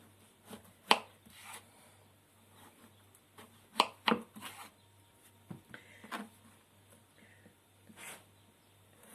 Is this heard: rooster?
no